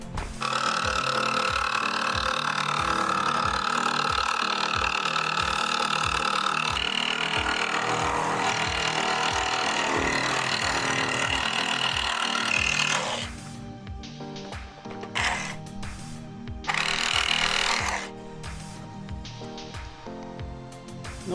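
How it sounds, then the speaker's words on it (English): A jigsaw fitted with a metal blade saws through carbon fibre for a Mazda MX5 NC spoiler, a loud, close, steady rasping buzz with fast pulsing strokes that breaks into shorter intermittent bursts toward the end. "So I'm going to be using the jigsaw, metal blade."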